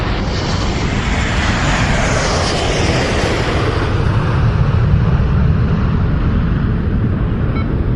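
Loud, steady roar of a jet airplane engine at full power, a broad rushing drone that swells slightly as it carries on.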